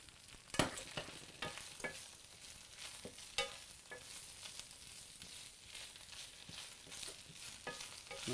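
Fresh spinach sizzles quietly in a hot pan with some browning, punctuated by sharp scraping and clacking as it is stirred and tossed, with no talking.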